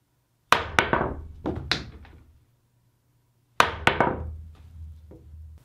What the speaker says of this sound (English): So let's start with the easiest one, the standard jump shot.